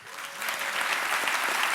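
An audience at a lightning-talk session claps in a quick show-of-hands vote, a short burst of many hands that swells after a soft start and holds steady.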